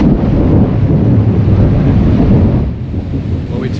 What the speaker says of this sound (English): The storm has come in just as we finished lunch. So we're going to be sitting this one out, as you can hear.